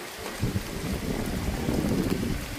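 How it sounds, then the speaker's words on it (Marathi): Strong, cool wind gusting during an unseasonal rainstorm, a loud rumbling roar buffeting the microphone with rushing noise that swells and stays steady throughout, close and without any talk. "कसलं भारी वारा सुटलंय,"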